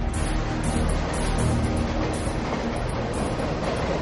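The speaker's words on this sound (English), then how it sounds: "But the train just keeps going faster." Train running on rails with a steady, loud rumbling roar and faint rhythmic clatter of wheels, continuous throughout without voices.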